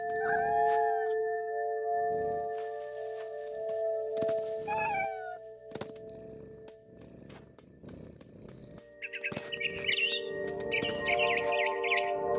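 Synthetic bird chirps and tweets from the video game What Remains of Edith Finch ring out in short bursts over a quiet background, with shrill calls and a brief electronic melody near the end.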